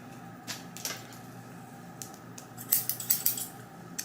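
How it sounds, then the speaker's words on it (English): New professional hair scissors are handled during a wig-styling session, producing sharp metallic snips and clicks, sparse at first and then a quick cluster of close, crisp cuts near the end. "Guess we got some new scissors."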